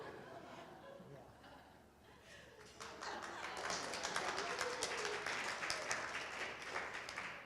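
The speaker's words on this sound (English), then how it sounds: "Well, thank you for the applause." An audience at an artist talk breaks into applause, quiet at first, then a dense wash of clapping swells and holds steady, with a little laughter mixed in.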